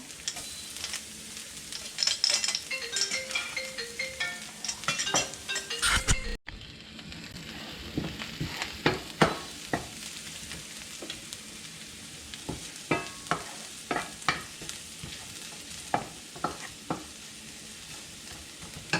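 Chopped garlic fries in a pan with steady sizzling, and a spatula clinks and scrapes repeatedly as it is stirred, busier in the first few seconds; nobody speaks.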